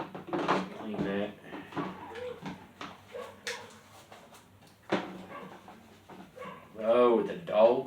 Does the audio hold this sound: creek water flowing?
no